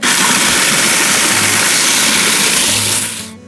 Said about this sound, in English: Crispity, crunchity garlic. Into the grinder you shall go.